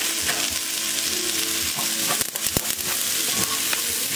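Corn, carrots and peas fry in a hot pan with a loud, dense, steady sizzle, broken by a few sharp crackles and pops near the middle, close by with no voices.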